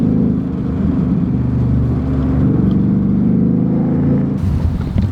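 A 2018 Ford Mustang GT engine revs at high RPM, a loud, sustained droning roar that holds steady before easing off near the end.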